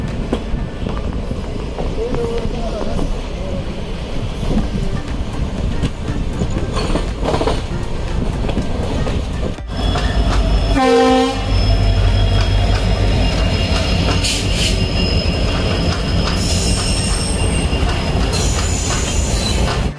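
A passenger train pulls out of Madgaon station at night, wheels rumbling steadily with clickety-clack rhythm and a brief squeal midway, loud and close from inside the carriage.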